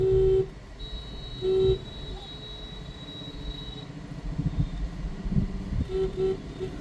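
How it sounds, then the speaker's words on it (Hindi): A car horn sounds twice, short then longer, amid highway traffic and engine noise; a faint horn toots again near the end. "धीरे धीरे जाने दो, लॉन्ग हॉर्न प्रेस करके"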